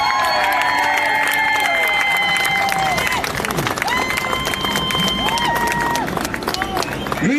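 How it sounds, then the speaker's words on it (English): A loud crowd at an outdoor political rally and march in Philadelphia claps and cheers for a speaker. Whoops and shouted voices rise over dense clapping and babble throughout. "Everyone, please give a warm round of applause for Kevin Martin."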